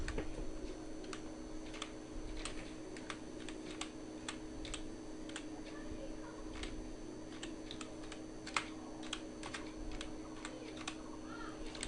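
Tags being typed on a computer keyboard, a light irregular patter of close keystrokes over a low steady hum, with no voices.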